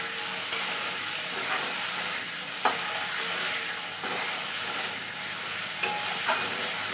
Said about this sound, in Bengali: এবারে দিয়ে দেবো হচ্ছে শুকনো লঙ্কা, পাঁচফোড়ন আর তেজপাতা একসাথে দিয়ে দিলাম এই তেলের মধ্যেই